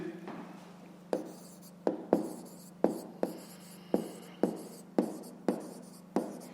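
A pen writes digits by hand on paper, making about ten short, crisp scratching strokes at a steady pace, close and clear over a low background hum.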